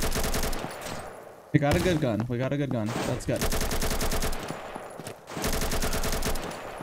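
Gunfire in the PC shooter Combat Master, dense rapid bursts of automatic fire filling most of the stretch with a short pause, while players talk briefly over the shooting.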